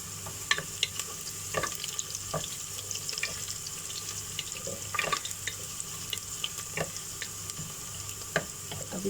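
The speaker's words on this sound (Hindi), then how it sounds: "अब इसको थोड़ा सा फ्राई करना है।" Red chilies and soft, translucent onions frying in a pan for a mutton stew, a low steady sizzle broken by scattered crackles and pops, with a few louder clicks of stirring, close and moderately quiet with no talk.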